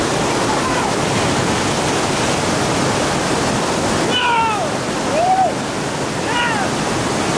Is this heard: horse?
no